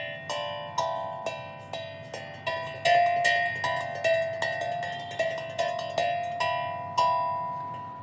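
A tongue drum struck by fingertips gives a steady run of clear, ringing metallic notes, each with a sharp attack and a long sustain that overlaps the next, heard close and alone.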